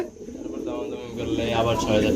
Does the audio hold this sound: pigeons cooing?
yes